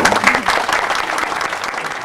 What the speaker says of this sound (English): I want you to give him a great round of applause